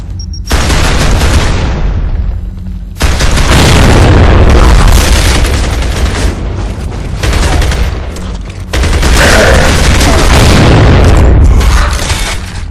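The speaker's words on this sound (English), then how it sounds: "Frag out!" Frag grenade explosions in a video game: loud, heavy booms burst in one after another and roll on in a sustained, rumbling wash of blasts and gunfire-like crackle, with no talk.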